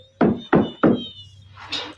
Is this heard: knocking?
yes